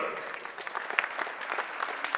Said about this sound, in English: So huge round of applause for Sunday.